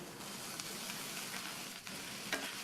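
Radish, onion and chilli being tossed in a hot pan make a steady soft frying hiss, with a few faint scraping touches and no voices.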